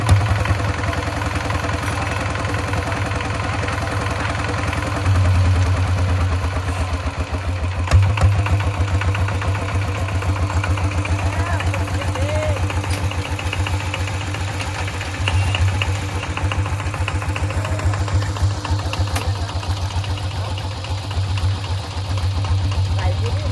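A farm tractor's engine idles steadily during rice sowing, a low, even chugging drone that holds close and constant throughout, with brief bumps and rattles.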